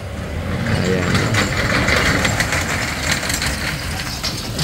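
Motorcycle engine revving hard as the bike climbs and crosses a river on a rural ride in Chalatenango, El Salvador, a steady, loud, rough roar with splashing texture throughout, nearby and continuous.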